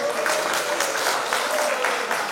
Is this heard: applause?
yes